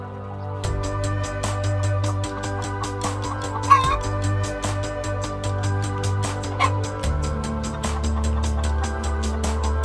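Chickens clucking softly over a steady low hum, with brief louder squawks, while a rapid metallic ticking runs throughout.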